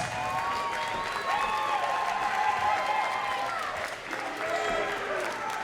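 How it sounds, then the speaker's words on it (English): Crowd at a live combat-sports fight night in Philadelphia applauds and cheers after a five-round bout, sustained clapping and voices, with an announcer talking over it throughout. "both these fighters deserve a warm round of applause"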